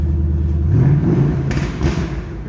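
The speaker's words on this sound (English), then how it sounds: "Borla's got a little bite to it." A 2008 Ford Mustang Bullitt V8 with a Borla exhaust gives a quick, raspy rev that swells and settles over its idle rumble, with a thud near the start.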